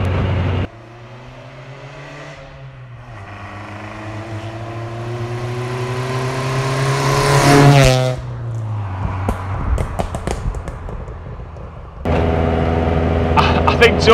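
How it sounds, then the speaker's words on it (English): Modified 1985 VW Golf GTI Mk2 engine revving up in a long rising sweep, then cutting off into a burst of crackling exhaust pops and bangs before settling back to a steady drone, loud and close with no talk. "It's just constantly popping and banging in the back."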